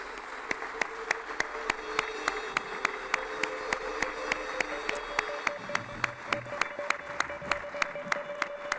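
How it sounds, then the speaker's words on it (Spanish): Congregation in a church clapping for the Lord, heard as steady rhythmic unison claps at a regular beat against a background hum, moderately distant and not very loud. "¿Por qué no dar un aplauso al Señor?"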